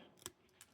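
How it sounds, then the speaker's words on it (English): Wire cutters snip through a plastic zip tie while an AN fitting is assembled: one sharp, faint snap followed moments later by a softer click, in an otherwise quiet setting. "let's get a pair of wire cutters, cut the zip tie off"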